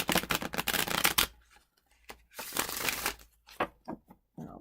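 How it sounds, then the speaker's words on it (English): A deck of tarot cards being shuffled for a reading, with bursts of dense riffling and slapping, a pause, then another long shuffle and a few shorter taps near and clear. "this will be the last big shuffle."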